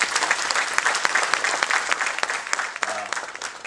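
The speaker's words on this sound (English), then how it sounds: "Can we give a big round of applause for them, please?" A crowd gives loud, dense applause for India's finance minister and the SEBI chairman, with sharp claps close by throughout the clip and a brief voice heard near the end.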